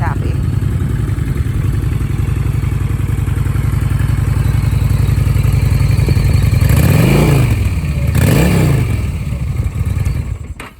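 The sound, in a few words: cruiser motorcycle engine running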